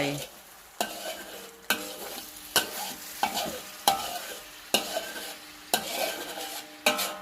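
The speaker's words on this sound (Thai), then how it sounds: "ทีนี้ก็เคี่ยวไป" Coconut milk simmers with a soft sizzle in a large wok while a utensil stirs and scrapes it in regular strokes roughly every second, close and moderately quiet, with no voices.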